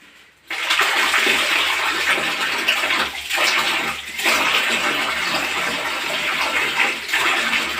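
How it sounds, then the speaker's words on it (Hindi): Hot water gushes steadily from a tap fed by an Atlas 25-litre electric geyser, starting abruptly after a short quiet moment and running loud and close with slight surges. "ये अब हमारा गर्म पानी आ रहा है।"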